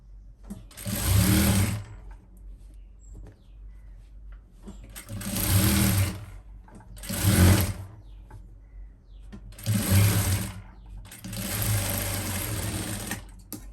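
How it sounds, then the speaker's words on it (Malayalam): A sewing machine stitches through fabric in five separate bursts of fast, rattling needle action, each a second or two long, separated by quiet pauses, heard close and clear. "ഇതിൻ്റെ മീതെ കറക്റ്റ് വരത്തക്ക രീതിക്ക് ഒരു സ്റ്റിച്ച് ഈ തുണിയുടെ മീതേക്ക് ഒന്ന് തയ്ക്കാം"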